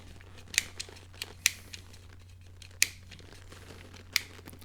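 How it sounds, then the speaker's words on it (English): Wire cutter snipping through wires, a handful of sharp isolated clicks spread unevenly over a low steady hum, close and fairly quiet, with no talking. "I think I can cut these wires"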